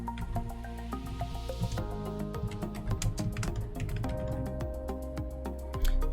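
Rapid clicking of computer keyboard keys, a dense run of sharp individual taps with brief pauses, close and clear without any talking.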